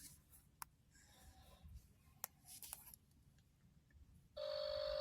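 A phone line rings out on an unanswered hotline call. A faint click and some handling noise come first, then a loud, steady ringing tone starts near the end.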